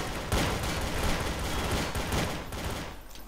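Rapid gunfire in Counter-Strike: Source gun game mode, a loud, close burst of repeated shots in quick succession that tapers off toward the end.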